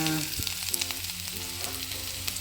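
Onion and green chilli frying in coconut oil in a home kitchen pan, a steady close sizzle and crackle with faint stirring, no talk.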